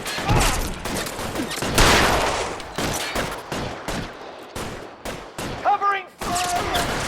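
Gunfire from the LA Noire video game: a rapid volley of shots and bursts, loud and near, with heavy crackling impacts stacked close together and brief voiced shouts mixed in.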